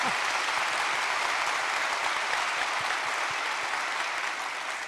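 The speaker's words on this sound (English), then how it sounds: "I also love the weird applause from the audience" Steady, sustained applause from a studio audience, a dense even wash of clapping that holds at a constant level for several seconds without any talk.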